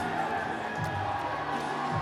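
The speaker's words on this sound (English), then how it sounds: "You're going to hear the crowd behind me now, going absolutely crazy." Crowd at an Apocalypse Fight Series event cheering for 48-year-old fighter Dave Winter, a steady roar of shouts and cheers throughout, fairly loud, with some voices standing out.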